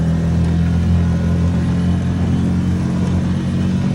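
Outboard motor on a small dinghy running under steady throttle, a loud continuous low engine drone with a rumbling hum that holds evenly throughout, no voices.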